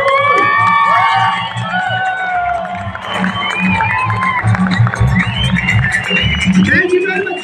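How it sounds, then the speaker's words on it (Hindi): A crowd at a Healthy Living Nepal Vestige second anniversary celebration cheers and shouts loudly and continuously, an energetic wash of voices with whoops rising above the din. "जोरदार ताली निरंतर बजिराख्नु पर्यो"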